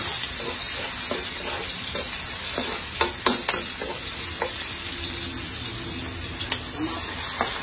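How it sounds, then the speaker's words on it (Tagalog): Onions sautéing in a pan for dinuguan sizzle steadily up close, with a few sharp stirring clicks and utensil taps scattered through. "Sibuyas. Nagigisa pa rin."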